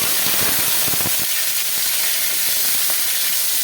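Cleaned dried fish sizzles loudly in hot mustard oil in a wok, with a steady, dense hiss and crackle that starts with a burst of spattering and then settles into continuous frying, close up and without talk.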